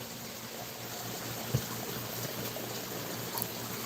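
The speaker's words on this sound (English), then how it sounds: "The creek is looking good." Creek water flows on a farm, a faint, steady trickling hiss with a soft low hum beneath and one brief splash midway.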